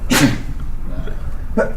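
One sharp, loud sneeze bursts out at the start in a quiet room. A brief spoken word follows shortly after, then a second, smaller burst near the end.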